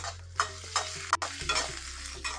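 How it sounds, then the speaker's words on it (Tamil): Green chilies and dried red chilies are sautéed over a low flame in a pan for amla thuvaiyal, with a spatula scraping and stirring in several distinct strokes over a gentle background sizzle. "இதே சேர்த்து இதோட வதக்குங்க லோ ஃப்ளேமில் இருக்குது"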